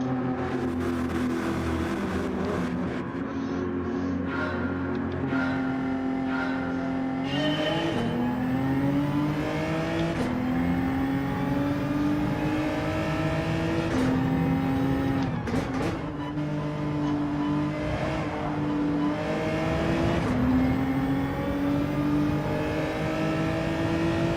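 Race car engines rev and shift through gears in a Gran Turismo 7 daily race, a loud close engine whine rising and dropping repeatedly, with tyre squeal and other cars passing.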